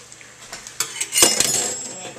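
A utensil scrapes and clinks against a small pan as chicken, broccoli and cavatelle are stirred, with soft irregular knocks that grow busier toward the end.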